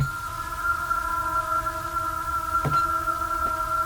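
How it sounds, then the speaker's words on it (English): A sustained, droning synth tone with layered steady pitches and a distorted edge hangs on with a long reverb tail, plus a brief pulse near the end. "there's a good amount of reverb on there with the distortion, and it creates that weird kind of lasting effect"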